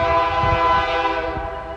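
A passing train sounds its horn in a sustained, loud, steady blast close by, with the low rumble of the rail cars running underneath it, heard from a backyard where planes and cars also go by.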